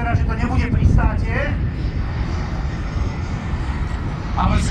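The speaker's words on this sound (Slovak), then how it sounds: "Ale je to vlastne len prelet v pristávacej konfigurácii." An Airbus A319 of the Slovak Government passes overhead at minimum speed in landing configuration at the Piešťany air festival, a steady loud jet roar with someone talking over it.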